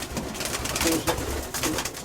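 Soft, repeated cooing of a racing pigeon close by, low throaty calls rising and falling over a brief stretch with faint background noise.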